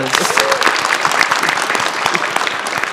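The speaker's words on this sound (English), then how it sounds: "Round of applause." Loud, steady applause from a panel audience at the PAX East 2024 gaming convention, dense clapping that fills the whole stretch without letting up.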